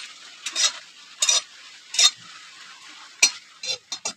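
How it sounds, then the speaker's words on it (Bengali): Six or seven dried red chillies fry in a hot pan for a lemon pickle, giving a steady low sizzle broken by several short bursts of stirring and scraping. The sound is close, with no voices. "তো আমি এখানে 6-7টা শুকনো লঙ্কা একটু ভেজে নেবো।"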